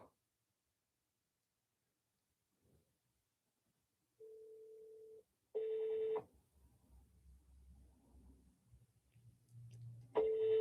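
Telephone tones sound through a phone line: a short steady tone, then louder beeps and a final tone after a pause, clean and electronic with faint background noise between them.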